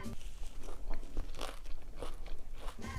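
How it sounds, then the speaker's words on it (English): Close, dry crunching of breakfast cereal being bitten and chewed, a dense run of crisp crackly bites lasting a few seconds with no talking. "is this cereal fresh and crunchy?"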